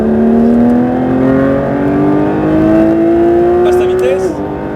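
A Porsche GT3 RS at full throttle on the Le Mans circuit, engine note rising steadily and loud from the cockpit before a gear change, with an instructor's voice talking over it.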